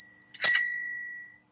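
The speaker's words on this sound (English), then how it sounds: "hit the notification bell" A single bright bell ding, a notification-bell sound effect, rings out clearly and loud with a short ringing decay, alone with no talk.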